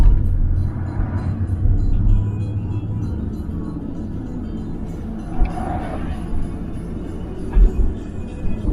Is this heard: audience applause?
no